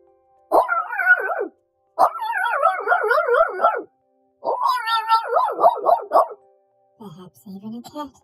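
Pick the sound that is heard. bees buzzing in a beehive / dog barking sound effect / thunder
dog barking sound effect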